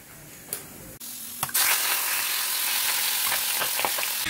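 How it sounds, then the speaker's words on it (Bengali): A piece of fish frying in a kadai, giving a steady loud sizzle that begins abruptly and holds, with faint stirring clicks and no voices. "মাছটা ভাজা হচ্ছে"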